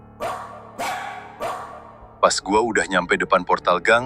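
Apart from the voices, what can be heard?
dog barking in the distance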